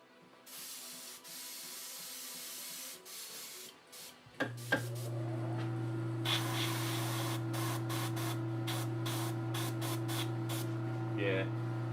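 Aerosol can spraying a coat of silver metallic paint, a steady close hiss that starts after a few seconds of quieter rustling and runs on continuously, with brief pauses, while someone talks nearby.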